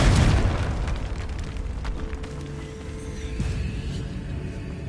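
A loud burst from the Confringo fire spell in Hogwarts Legacy opens on a heavy blast, then settles into a sustained rumbling roar with faint creaks and tonal game effects beneath.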